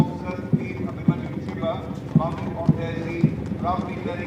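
Horse hooves of a cavalry unit at a cadet parade, sounding as sharp, evenly spaced clip-clop strikes roughly every half second over steady outdoor noise, with someone narrating throughout.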